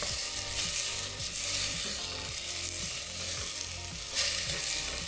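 Carrots, celery and onions fry in a pan for a pasta sauce, giving a constant close sizzle with occasional scraping and stirring sounds layered on top, and no voices.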